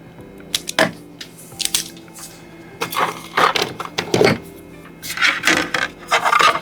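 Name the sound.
stripping wires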